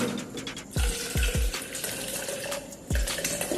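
Water is poured into a plastic protein shaker bottle, a steady close trickle and splash. A few hollow plastic knocks break in as the bottle shifts, with no talk.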